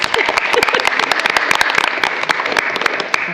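Applause for students at a school committee meeting, a short burst of many hands clapping close by, dense and steady throughout.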